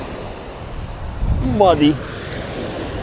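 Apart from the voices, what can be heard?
south wind blowing at the beach with surf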